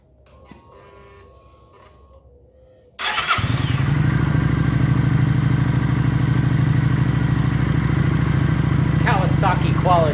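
A Kawasaki Vulcan 900 LT motorcycle starts after a quiet stretch and then idles and rides with a loud, steady, close engine drone that holds through the rest of the clip.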